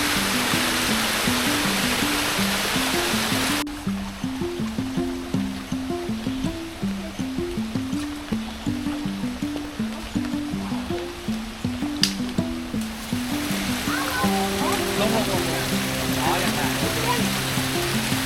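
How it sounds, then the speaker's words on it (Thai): Steady roar of a forest waterfall and stream in the rain, a broad continuous rush that fills the whole clip, with faint tones partly masked by the water. "น้ำตก"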